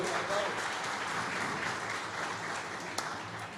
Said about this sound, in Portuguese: Uma salva de palmas para esse mestre aí